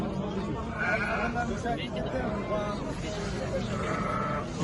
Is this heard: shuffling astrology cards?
no